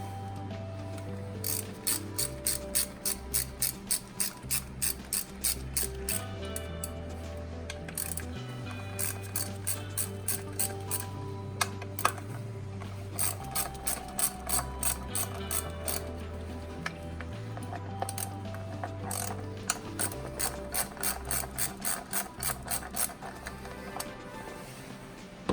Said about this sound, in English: I'm gonna go ahead and use a 10 millimeter socket with a small extension and a ratchet.